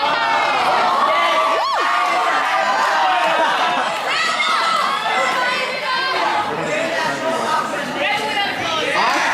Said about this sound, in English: You guys are like cheering.